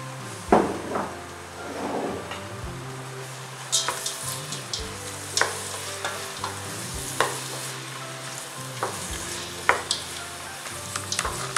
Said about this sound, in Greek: Σε μια κατσαρόλα θα ρίξω το λαδάκι μου και θα σοτάρω τα λαχανικά μου μέχρι να γίνουν διάφανα.